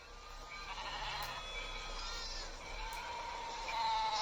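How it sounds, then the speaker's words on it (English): A Judas goat bleats in a wavering, drawn-out call that runs through the whole short stretch, fairly close and with no one talking. "What is it? A Judas goat."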